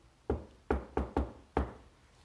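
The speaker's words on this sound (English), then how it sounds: "I'm gonna knock." Five close, sharp knocks on a hard surface, the first two spaced apart and the last three in quicker succession, each ringing briefly in a quiet room with no voices.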